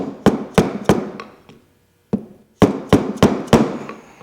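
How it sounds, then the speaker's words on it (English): The butt end of a hammer strikes a metal skid steer bucket pin, tapping it into place in sharp, ringing taps: a quick run of four, a pause, then a steady series of six close, loud blows. "Let's try the butt end of my hammer. See if that helps."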